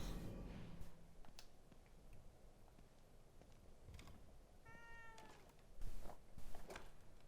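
A cat in the horror video game The Evil Within 2 gives one short, clear meow midway through, set against a steady, dim background hiss with a few soft knocks.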